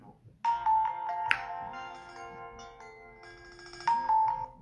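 A telephone ringtone plays close and clear as a melodic electronic tune, loud and alone, with a strong phrase near the start and another near the end.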